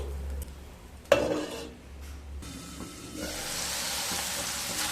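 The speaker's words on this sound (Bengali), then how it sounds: "হাফ চামচ আদা বাটা খুব সামান্য জল দিয়ে মশলাগুলোকে খুব ভালোভাবে কষিয়ে নেব" Ground spices with ginger paste and a splash of water fry in a pan for red spinach masoor dal. A sharp clatter comes first, then a quiet stretch, then a growing, steady sizzle.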